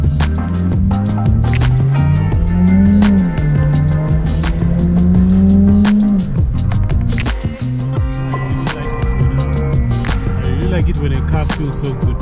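A car drives with a steady engine drone and road noise, the pitch rising and falling as it accelerates, loud and close throughout.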